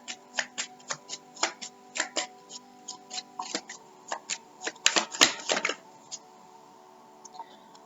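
Tarot cards being shuffled in a steady run of crisp riffling bursts, close and fairly loud, with a denser flurry toward the end before trailing off; a faint hum sits underneath.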